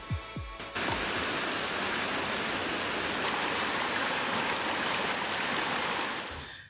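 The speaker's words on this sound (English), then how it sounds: "walked down to the foot of the waterfall" A steady, full roar of a waterfall heard from its foot in Victoria, Australia, rushing continuously after a few brief thumps at the start, loud and close.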